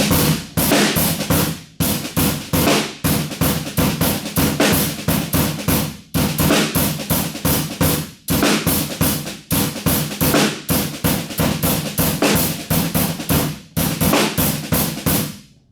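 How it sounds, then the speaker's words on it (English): A rock drum groove from a drum workshop accents the backbeat around ghost notes. It is a loud, continuous, choppy pattern with dense cymbals and regular strong snare hits, played alone for about sixteen seconds with no talking. "If I took those out and just sort of accented the backbeat around those ghost notes, it would"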